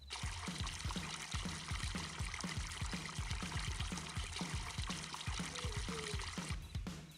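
Water pours from a bucket in Farming Simulator 22, a steady splashing gush with rapid repeating sloshing pulses that runs continuously for several seconds before cutting off.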